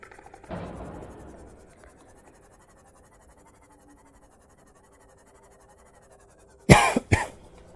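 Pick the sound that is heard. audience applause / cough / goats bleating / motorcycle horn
cough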